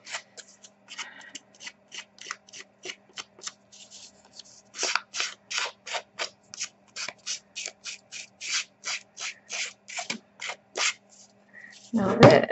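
Back of a scissors blade scraped repeatedly along the edge of a paper strip to distress it for a country Christmas tag, a series of short, dry rasping strokes in a steady rhythm.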